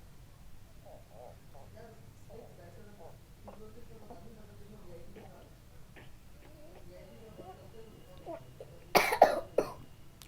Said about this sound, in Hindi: खांसी हो गई, खांसी।